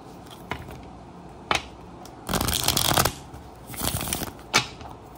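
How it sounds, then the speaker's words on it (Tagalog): Oracle cards being shuffled by hand, a deck of five for a tarot-style reading, giving bursts of riffling and flicking snaps, close and fairly loud, with quiet pauses between them and no talk. "No, balasahin din natin ang 5 oracles."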